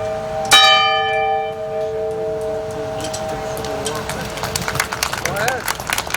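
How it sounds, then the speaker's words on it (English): A single loud ceremonial bell strike at a Veterans Day ceremony rings out and slowly decays, followed by murmuring and shuffling from a crowd. "I'd like to ring the bell in honor of my father, Francis Cole"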